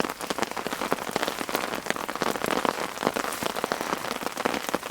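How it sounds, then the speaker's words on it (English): Heavy rain drums steadily on a camping tent in the woods, with gusts of wind, a dense, close, continuous patter of drops with no voices. "Lying there watching the rain and the wind."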